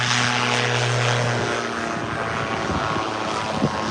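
A small propeller plane passes overhead, its droning engine hum strong at first and then thinning into rougher wind-buffeted noise as it moves away.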